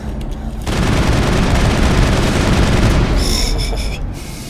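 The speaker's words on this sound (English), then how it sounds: "Those things shoot a rocket at you." Enemy rockets and gunfire in the video game Mass Effect, on the Bringing Down the Sky mission, make a sustained loud barrage of shots and blasts that runs almost without a break, with a brighter crackle near the end.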